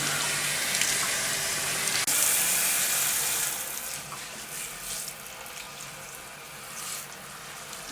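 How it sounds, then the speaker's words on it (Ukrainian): Running tap water rinsing hair without shampoo during a keratin hair treatment, a steady hiss of flowing water that splashes loudly at first, then settles into a softer, continuous stream. "Тепер ми змиваємо без шампуню, проточною водою, проточною водою змиваємо"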